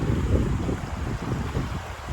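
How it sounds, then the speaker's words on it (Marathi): The Rawalje river near Mangaon in the Konkan countryside flows with a steady low rushing wash, mixed with wind buffeting, and no one talks. "पाठीमागे मस्त नदीचा तुम्ही आवाज ऐकू शकता बघा"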